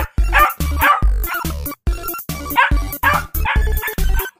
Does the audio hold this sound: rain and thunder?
no